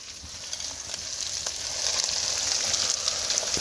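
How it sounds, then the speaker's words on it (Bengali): Spiced masala sizzles and fries steadily in a pan as a sour yogurt paste goes in, a dense crackling hiss that swells slightly louder toward the end, with no voices. "এখন মশলা কষানোর এই পর্যায়ে আমি এই যে টক দইয়ের যে মিশ্রণটা করে রাখছিলাম পেস্ট, এইটা আমি দিয়ে দেব।"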